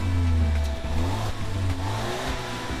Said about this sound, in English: There's no character from its exhaust note.